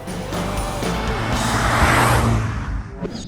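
A Cupra Formentor car drives at speed, its engine roar steady and close with a brief swell midway, alone with no voices.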